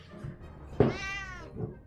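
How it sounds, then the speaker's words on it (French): A cat gives one clear, fairly close meow rising and falling over about a second, with faint soft thuds and low room noise before and after it. "Le chat est encore là"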